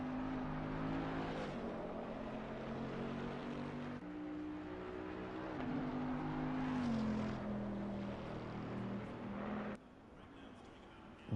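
Race car engine droning steadily at Bathurst in a racing video game, its pitch rising and falling through gear changes as the car struggles to turn in with steering problems, with commentary over it and a sudden drop near the end.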